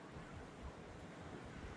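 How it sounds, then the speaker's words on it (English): Ocean waves rolling into a beach cove at Porthleven, a steady low roar of surf with wind buffeting the microphone, heard without any talk. "just listening to the waves coming in"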